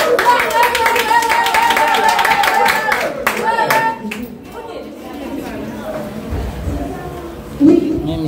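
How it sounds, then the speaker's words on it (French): Clapping rises at an International Nurses Day gathering in Delmas 32, Haiti, mixed with crowd chatter, voices and tonal sounds, then thins into scattered noise. "Applaudissements."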